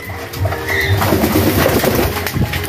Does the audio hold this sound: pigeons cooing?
yes